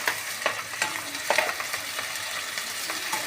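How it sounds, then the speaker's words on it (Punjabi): Cumin and carom seeds sizzle vigorously in hot oil, a loud dense crackle with repeated popping bursts and stirring scrapes throughout. "ਆਪਾਂ ਪਾ ਰਹੇ ਹਾਂ ਜੀ ਜੀਰਾ ਤੇ ਜਮੈਣ ਤੇਲ ਆਪਣਾ ਗਰਮ ਹੋ ਚੁੱਕਿਆ"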